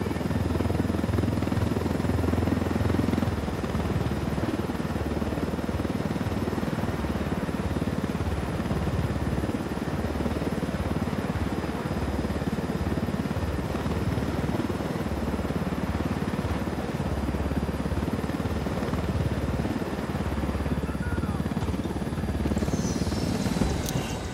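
Helicopter flying in Tom Clancy's Ghost Recon Wildlands, a loud continuous rotor and engine drone with a rapid low chopping pulse that stays steady and close for the whole stretch, with no talk over it.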